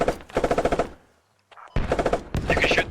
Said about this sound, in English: You can shoot through this wall here with a machine gun.